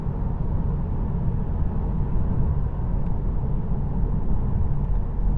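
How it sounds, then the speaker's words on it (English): Steady low traffic rumble of many cars on the road, heard from inside a 2024 Tesla Model 3 while driving, a continuous moderate hum with no talking. "There's so many cars on the road."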